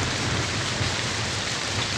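Steady, dense rain falls throughout, a constant close hiss of drops hitting surfaces with no break and no voices.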